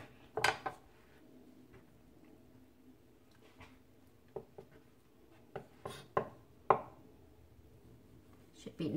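A knife slices through sous vide chicken on a board, making a few soft cuts and sharper taps against the surface, sparse and quiet with little else around.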